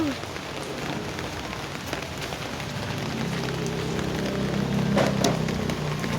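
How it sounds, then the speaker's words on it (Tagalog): Steady rain patters on a surface, a constant hiss with scattered drops, joined partway through by a low background hum and faint noise. "Painday-inday ang ulan"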